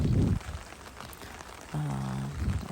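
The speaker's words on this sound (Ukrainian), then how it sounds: "щоб ти е, міг змогу послухати, як в нас іде дощик" Rain falls steadily outdoors on a wet spring day, a soft continuous patter broken by a couple of brief low thumps and a short humming tone.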